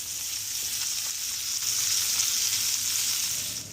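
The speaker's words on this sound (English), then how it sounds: "You can still hear the sizzling." Salmon sizzles steadily in a hot pan, a bright continuous crackling hiss that swells slightly midway, with no voices.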